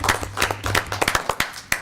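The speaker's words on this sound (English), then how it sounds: "I'd just like to give him a round of applause." A few people clap briefly at a planning commission meeting in Lynchburg, giving a short, sparse round of applause with uneven, scattered claps over a low steady hum.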